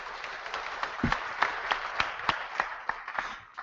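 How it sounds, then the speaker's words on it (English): A disc golf pro panel audience claps for a panelist, a modest, sparse round of applause with distinct individual claps, fairly quiet and short-lived in a room. "go ahead, give him a round of applause"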